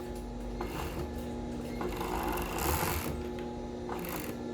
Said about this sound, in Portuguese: Vou passar uma overlock aqui para facilitar.